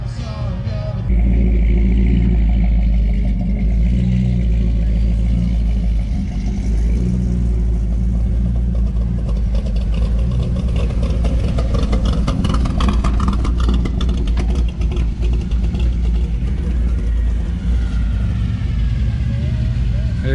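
A hot rod's engine runs with a deep, loud rumble at a parked car show, holding a rough steady idle with slight swells, close by, while someone talks over it.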